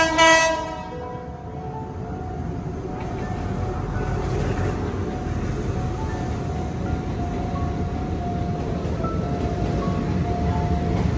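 A train rolls past steadily and fairly close in a Bangkok street setting, a continuous rumble with a brief horn-like tone near the start, with no talking.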